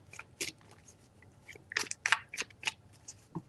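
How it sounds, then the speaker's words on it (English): Tarot cards are shuffled in short, crisp bursts of riffling and slapping, close to the microphone, with uneven pauses between the strokes. "3 shuffles."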